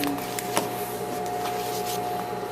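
A sewing machine stitches along an apron tie, its motor humming steadily with a continuous mechanical whir that holds an even tone and rhythm throughout.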